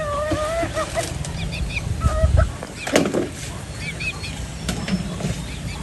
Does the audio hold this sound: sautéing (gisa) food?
no